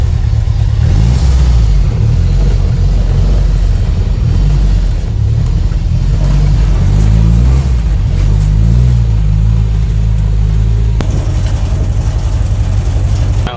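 An old Russian SUV engine rumbles loudly and close on a forest trail, its low drone rising and falling as the vehicle pulls away and accelerates, with a steady heavy hum throughout.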